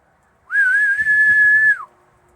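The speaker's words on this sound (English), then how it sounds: "I can whistle like that, and they hear me." A single loud, sustained whistle from a person calling farm animals at feeding time, rising sharply, holding steady for over a second with a slight waver, then dropping off, with faint low rustling underneath.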